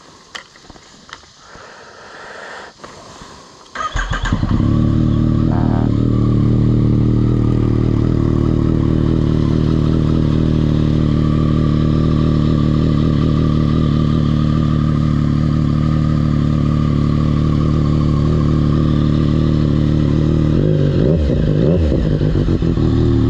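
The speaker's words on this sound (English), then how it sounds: "cold start after not touching it for like 2 weeks" After some quiet handling noises, a Yamaha FZ-09 motorcycle fires up from a cold start after sitting for two weeks, then holds a loud, steady, throbbing close-up idle with a small blip near the end.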